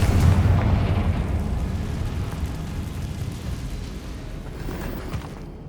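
A Confringo fire spell explodes in the video game Hogwarts Legacy with a loud, deep booming blast whose rumble rolls on and slowly fades over several seconds.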